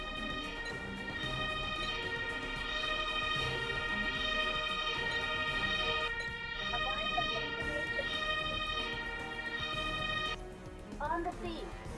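A wailing ambulance siren from a cooperative emergency-services video game, holding steady under game music and overlapping voices, with people chatting throughout.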